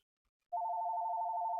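A telephone rings with a steady electronic warble that starts abruptly after a short silence and holds clear and close, with no talk.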